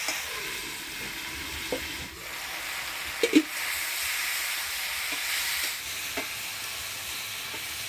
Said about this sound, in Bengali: শিম আলুটা ভালো করে ভাজা ভাজা করে নিলাম